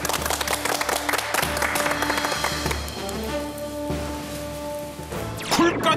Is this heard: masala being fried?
no